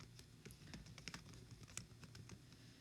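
Fingers type on a computer keyboard in a quick, uneven patter of close, light key taps that runs steadily throughout, with no speech.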